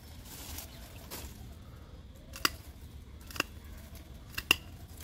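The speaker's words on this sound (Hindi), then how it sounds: "मैंने एक साइज से ऊपर के मतलब एक बराबर करके मैंने काट दिया यहां से" Pruning shears snip stems on a rose plant, three sharp, brief cuts spaced a second or so apart, close and fairly clear over a soft background hiss.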